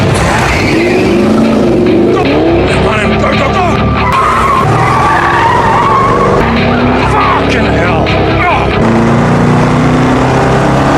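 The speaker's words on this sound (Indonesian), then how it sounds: "Kain segera menginjak pedal gas dan dengan manuver tajam berhasil membuat mobil polisi itu kehilangan jejak di tengah padatnya lalu lintas" A car accelerates hard and skids its tires through a sharp maneuver in dense traffic during a getaway from a police car. The engine roars and tires squeal loudly and continuously, with voices at times.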